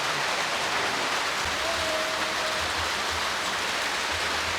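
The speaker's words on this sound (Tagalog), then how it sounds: "Lakas ng ulan." Heavy rain pours steadily onto a flooded, muddy mini farm, a dense unbroken hiss close by, with a faint low rumble underneath.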